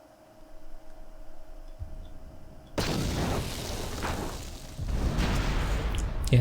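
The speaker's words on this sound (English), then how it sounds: "Yeah, definitely an explosion." An explosion in the Star Wars KOTOR 2 video game: a quiet lead-in gives way to a sudden loud, full-bodied boom whose roar carries on and swells again toward the end.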